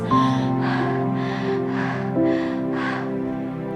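A voice imitates breathless panting, giving several rhythmic, breathy huffs in a row, close and clear with a tonal hum behind.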